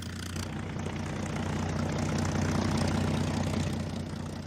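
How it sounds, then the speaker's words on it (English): Propeller engines of WWII US Wildcat fighters and Dauntless dive bombers drone loudly as the planes fly in, a dense, steady roar that swells slightly in the middle. "a group of US Wildcat fighters and dauntless dive bombers flew in"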